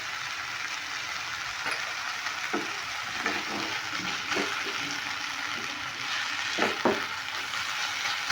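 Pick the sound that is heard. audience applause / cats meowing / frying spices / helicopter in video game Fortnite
frying spices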